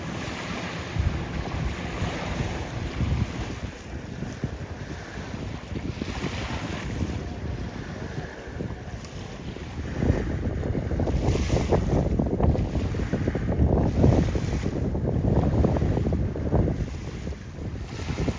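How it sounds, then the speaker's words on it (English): Pontoon boat speeding across clear winter water off a Florida island beach, heard as a rushing wake and motor drone that swells louder in the second half, mixed with surf and heavy wind buffeting the microphone. "There's this pontoon hauling ass here."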